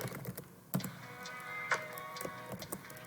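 A few soft, close computer keyboard clicks, pressed as a Control X shortcut, tap out irregularly in a quiet room.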